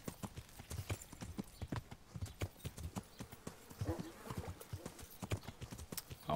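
Rapid clip-clop of horse hooves trotting at a steady rhythm in Kingdom Come: Deliverance, close and fairly loud, with a faint buzzing in the background.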